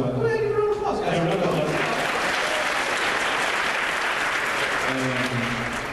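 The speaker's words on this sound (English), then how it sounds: "give a round of applause, guys" Panel audience at a gaming Q&A and challenge event breaks into loud, sustained applause that fills the room for several seconds, with voices and cheers mixed in at the start and end.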